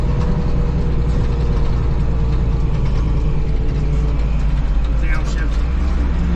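A road grader clears heavy snow from a road at night in North Idaho, with a loud, continuous low diesel engine rumble and scraping that fills the whole stretch, heard close up from inside the cab.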